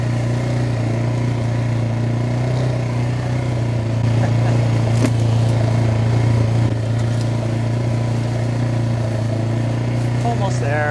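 A steady, droning vehicle engine runs throughout at a constant level, close and loud, with a low hum and faint rattles.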